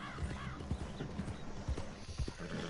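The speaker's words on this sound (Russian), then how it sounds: "Дохленькая лошадь вообще" A weak, struggling horse in Red Dead Online gallops with quick rhythmic hoof clops, close and steady over game ambience, with a faint whinny-like tone early on.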